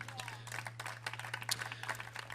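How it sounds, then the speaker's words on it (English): Audience applauding for the hosts at a live country music show at the Thunderbird Lodge in Lake Tahoe, scattered moderate clapping from a modest crowd over a steady low hum, fairly faint and distant. "One more round of applause for our hosts here tonight"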